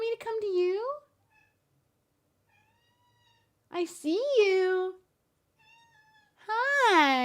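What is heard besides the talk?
cat meowing after waking from a nap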